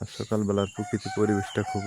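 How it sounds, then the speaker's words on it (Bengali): A rooster crows in the morning countryside, a loud, close, drawn-out call with a few broken cackling notes, while someone talks over it. "মোরগ ডাকতেছে"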